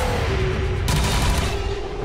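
Enemy return fire in XCOM 2: a loud burst of gunfire cracks out partway through, over a steady rumbling battle backdrop with a faint tonal whine, no one talking.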